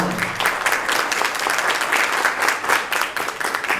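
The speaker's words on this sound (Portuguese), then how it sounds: "peço um salve de palmas" An audience at an education and health event applauds, dense continuous clapping from many hands, loud and sustained with no speech over it.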